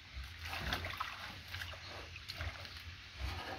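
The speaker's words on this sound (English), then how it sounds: "is stamping on the cow manure" Feet stamping on cow manure in a small pond to dissolve it, giving low sloshing and muddy splashing thuds in an uneven rhythm over steady outdoor background noise, with no speech.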